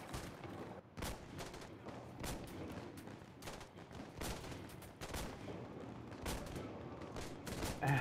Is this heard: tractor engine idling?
no